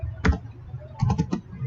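A few keystrokes tap on a computer keyboard while typing into a command prompt: one isolated key press, a pause, then a quick cluster of three or four clicks, close and crisp.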